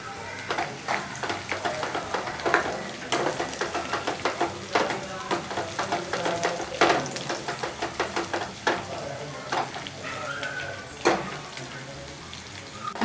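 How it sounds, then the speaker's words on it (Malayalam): Dried red chillies and curry leaves crackling in hot oil while being stirred, with irregular close scraping and sizzling bursts throughout and faint voices in the background. "ഇനി വറ്റൽമുളക് ഇടണം."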